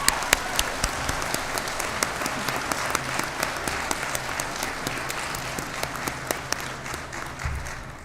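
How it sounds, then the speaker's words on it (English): An audience at a nursing pinning ceremony gives the nursing faculty a round of applause: dense, sustained clapping from a large crowd in a hall, steady throughout with a few louder individual claps standing out. "So let us give the faculty a round of applause."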